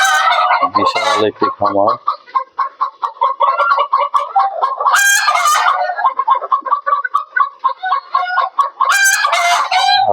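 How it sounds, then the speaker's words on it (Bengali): Fayoumi chickens on a large rooftop farm cluck and squawk in a loud, dense flock, with several sharp crowing bursts rising above the steady chatter and a voice speaking briefly early on. "দেখুন কত মুরগি, সব ফাউমি জাতের"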